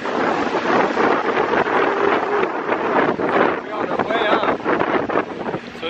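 A motorboat speeds across a lake, its engine and rushing wind filling the whole stretch at a steady, loud level, with voices faintly mixed in.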